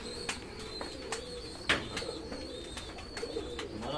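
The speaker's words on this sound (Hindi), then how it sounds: "हमारा सर जी अपना कबूतर है," A domestic pigeon kept by a pigeon fancier coos repeatedly at close range, soft rhythmic calls spaced through the few seconds, with no talking.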